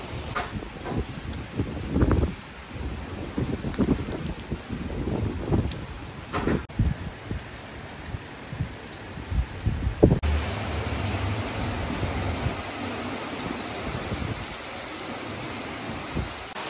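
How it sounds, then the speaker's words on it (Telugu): Heavy rain with strong wind gusts during an evening downpour in Luxembourg, a steady broadband wash that rises and falls in bursts, with a few louder thumps and no voices. "సాయంత్రం నుంచి ఒకటే వర్షం, బయటికి వెళ్దామంటే కూడా ఒకటి లేదు, అంతగానం వర్షం పడుతుంది చూడండి"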